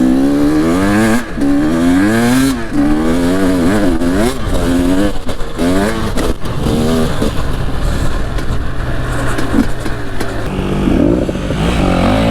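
Enduro motorcycle engine riding through snow, a loud, close, rough engine note that revs up and down repeatedly with throttle blips, plus clattering mechanical noise throughout.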